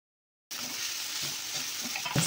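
After a moment of silence, potato filling with garlic, poha, turmeric and mashed potato sizzles and hisses steadily in a hot pan, with a few soft scrapes from stirring and a light knock at the end.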